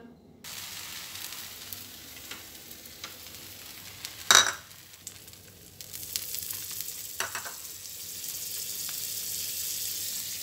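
Buttered cheese sandwich pieces toasting on a tawa give off a soft, steady sizzle that rises gradually, with one sharp clank near the middle as they are set down, quiet and close with no talk.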